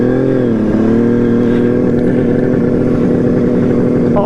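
A Kawasaki KH500 H1 motorcycle engine runs steadily on low fuel with the tap on reserve, a loud, close two-stroke drone with a slight rev near the start and continuous rattly buzz.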